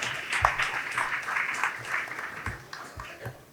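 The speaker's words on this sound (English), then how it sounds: "Round of applause, please." Applause at a quiz competition, a fairly soft, spread-out round of clapping from the audience, with a few thumps mixed in.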